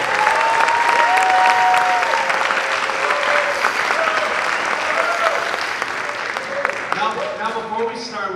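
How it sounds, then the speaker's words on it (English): An audience at a jazz festival applauds a featured vocalist, steady broadband clapping throughout with a sustained tone and voices mixed in. "Can we please give a round of applause for Aubrey Logan?"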